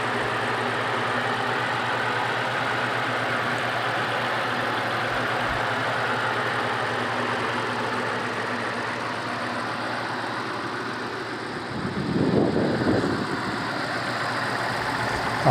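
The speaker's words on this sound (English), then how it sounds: "we do expect it to burn a little bit of oil, but it idles really well." An almost 30-year-old Mitsubishi 3000GT SL idles steadily and smoothly in a continuous, fairly loud drone, with a brief rougher swell near the end.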